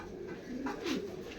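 Pigeons in a home loft giving soft, low cooing calls, a couple of short rising-falling coos close by against a quiet background, with no talk.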